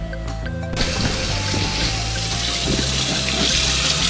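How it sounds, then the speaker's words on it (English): A tap runs hot water in a strong, steady stream close by in a cabin, gushing continuously into a basin after a brief clatter at the start. "Some steaming hot water? Hot water in the cabin."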